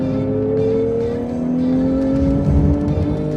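Porsche GT3 engine accelerating hard on a race track, a loud, steady in-car roar with rising tones climbing smoothly as the revs build, no talk over it.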